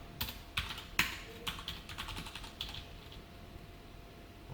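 Light typing on a computer keyboard while working in a code editor, a few sharp key clicks near the start followed by softer, scattered taps in a quiet room.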